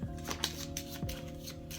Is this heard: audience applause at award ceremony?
no